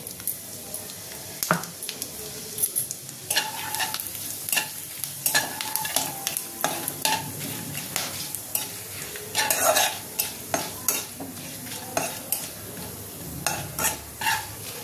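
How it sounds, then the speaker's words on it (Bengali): Whole spices, bay leaves, dry chillies, garam masala and cumin, sizzle in hot oil while a spoon stirs them, giving a steady frying hiss broken by repeated scraping and clattering strokes at close range. "তেলটা আমার গরম হয়ে গেছে, এবার ফোড়নগুলো দিয়ে দেবো।"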